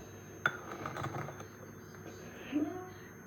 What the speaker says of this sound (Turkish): bu kaşıkla karıştırıyoruz